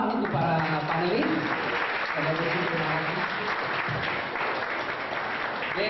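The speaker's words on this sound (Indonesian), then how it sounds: "Kita beri tepuk tangan untuk para panelis" Sustained, dense applause from a talk-show audience at a St. Paulus KPKS reunion event in Jakarta, honoring the panelists, with voices murmuring and speaking beneath the steady clapping throughout.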